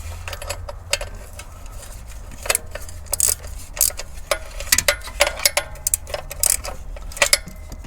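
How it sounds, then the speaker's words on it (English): A ratchet wrench tightening nuts on the oil cooler lines of a Toyota 2GR-FE engine: quick, close, irregular bursts of metallic clicking with short pauses between strokes, and no voices. "I'm going to be trying to evenly tighten all those nuts and bolts and studs."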